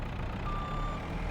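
A truck in Farming Simulator, on the Oak Bridge Farm map, emits a single sustained reversing beep over a steady, loud engine rumble; no voices.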